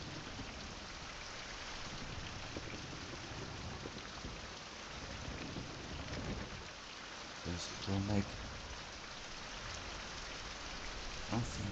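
Steady rain falls outdoors in a continuous broadband wash with patter on surfaces, a few louder splashes near the end, while someone speaks briefly over it.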